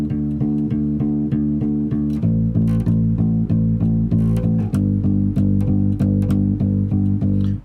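Piano plays the chorus of the worship song "Awit Sa'Yo" as a steady run of repeated full chords, close and loud, with the harmony shifting twice and no voices.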